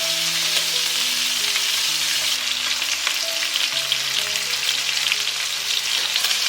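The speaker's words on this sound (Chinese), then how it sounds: "然后把姜片放进来" Sliced ginger and pork ribs fry together in a little oil, producing a constant, close, vigorous sizzle with light crackling and faint music underneath.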